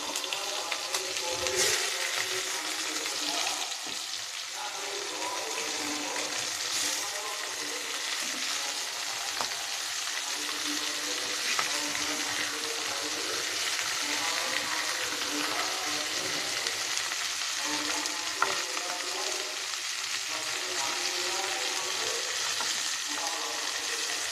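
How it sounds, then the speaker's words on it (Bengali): Magur catfish fries in oil in a pan with a steady, dense crackling sizzle that runs on throughout, moderately loud and close, with occasional faint clinks and no talking. "এখন মাগুর মাছটা হালকা একটা ভাজি করব।"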